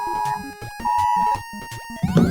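A phone emergency alert from a local police department blares in loud, steady electronic tones with pulsing beeps, layered over busy chiptune music from the NES game Ninja Kun, ending in a rising burst.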